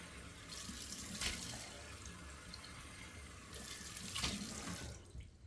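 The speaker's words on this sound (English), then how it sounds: "Let me turn on the cold water" Cold water runs steadily from a bathroom tap into a sink, a continuous close hiss and splash that swells briefly in places, with no talking.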